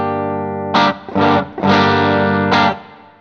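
A clean electric guitar plays through a JHS At Andy Timmons signature pedal with no drive added, a few strummed chords ringing out close and bright between short pauses, then fading.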